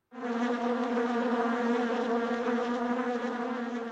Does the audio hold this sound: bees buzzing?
yes